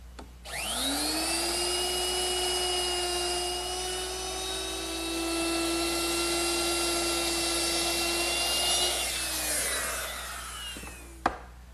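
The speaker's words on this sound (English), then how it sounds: "I'm going to use my router, which is equipped with a 3/8 inch beading bit" A wood router fitted with a 3/8 inch beading bit whines up to speed, holds a loud steady high-pitched cut through wood while rounding table legs, then spins down, ending with a sharp knock.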